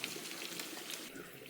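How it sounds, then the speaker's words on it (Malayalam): Water pours into a cooking pot holding jackfruit pieces, a faint, steady splashing rush that lasts the whole moment with no voices. "ശകലം വെള്ളം ഇതിനകത്ത് ഒഴിച്ചു കൊടുത്തിട്ടുണ്ട്"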